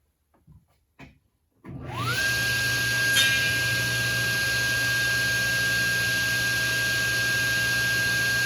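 A power saw spins up and makes the first cut into cornhole board wood, a loud, steady whining drone after a few short knocks at the start. It holds near and constant to the end, with no talking.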